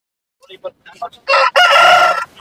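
At a market, a rooster crows loudly and close by after a few soft clucks, its call rising and holding for about a second.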